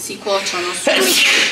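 A sneeze bursts out suddenly in a kitchen during zucchini fritter cooking, sharp and close, amid someone speaking Italian before and after it.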